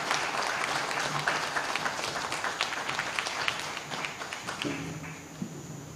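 Crowd at an outdoor UNC political rally on a pavement in Rio Claro applauds the arrival of Senator Anita Haynes with sustained dense clapping, easing slightly near the end as a voice begins.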